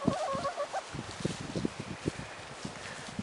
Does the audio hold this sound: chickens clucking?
yes